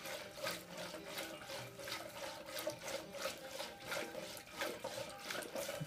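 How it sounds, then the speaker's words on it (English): Water is worked by hand into yogurt as it is churned into butter, giving steady close sloshing and splashing in a rhythmic pulse, with no voices. "Sometimes you add a little more water."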